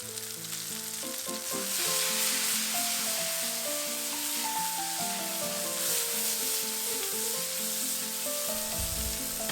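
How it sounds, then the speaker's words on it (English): Zucchini sautéing in olive oil over high heat, a loud, continuous sizzle and crackle that holds steady throughout, with a low clunk near the end. "just to get some brown spots and flavor coming from the sauteing in high heat"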